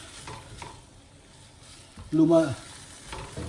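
Beef sizzles in a pan with soy sauce as a utensil stirs it, a brief loud burst of frying and scraping midway over a quieter background hiss.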